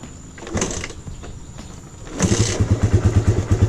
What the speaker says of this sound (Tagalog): Kickstart lang gagawin ko mga kapwa